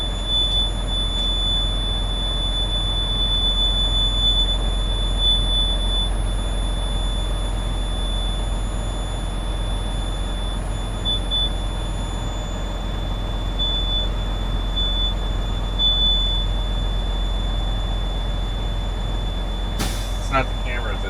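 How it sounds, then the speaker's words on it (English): A car dashboard warning alarm gives a thin, steady high-pitched tone that keeps on under the low rumble of the moving vehicle's cabin. "It's some kind of alarm."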